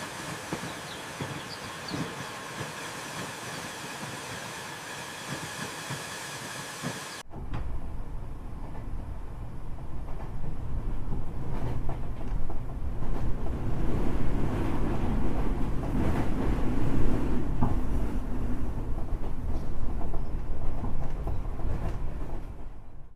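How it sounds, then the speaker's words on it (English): A luxury train pulls into a station; after a quieter opening, a heavy, continuous rumble abruptly takes over and grows, a broad rolling roar with no voices. "Look, the luxury train is arriving now."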